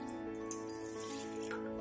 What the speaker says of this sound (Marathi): त्यामध्येच आता आपण 1/2 लिटर पाणी ऍड करणार आहोत।